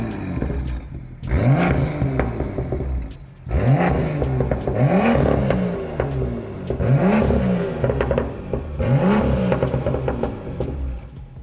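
A BMW M2 engine (N55B) revs repeatedly, rising and falling in about five sharp throttle blips with a raspy exhaust tone, close by.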